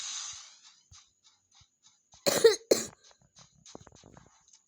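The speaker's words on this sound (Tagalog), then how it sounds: "pagpasensya nyo ng aking ubo" A single harsh cough bursts out, loud and near, during a Call of Duty: Mobile match, after a stretch of quiet with faint background sounds.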